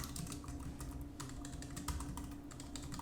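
Quick bursts of typing on a computer keyboard fill the space, soft key clicks pattering close by against a low steady background hum, with no voices.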